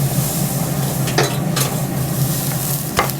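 Beef steak searing on a Pit Boss Navigator grill, a steady close hiss and sizzle with a few brief clinks of tongs or utensils, no talk.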